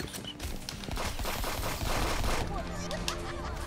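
A turret in a friends-versus-friends video game firing rapidly, a dense rattle of automatic shots lasting a few seconds, loud and continuous with other game sounds mixed in.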